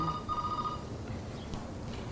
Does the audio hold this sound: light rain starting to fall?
no